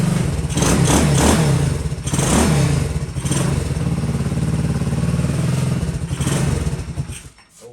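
A Honda CT70 motorcycle's small engine runs close by, idling unevenly with a rattly, clattering note and a few brief blips of revving before it cuts out near the end.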